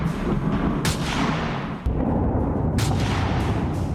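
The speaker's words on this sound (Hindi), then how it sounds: "गोलाबारी और विस्फोट की आवाज से पूरा शहर दहलता रहा है।" Repeated artillery blasts and explosions over a Donbas city in Ukraine, over a continuous loud rumble, with sharp booms punctuating the roar at intervals.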